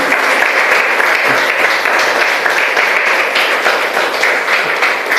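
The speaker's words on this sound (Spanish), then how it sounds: "Denle un aplauso a la palabra de Dios" Applause from a church congregation answering a preacher's call to clap for the word of God, a dense, steady wash of many hands sustained for several seconds with no talking over it.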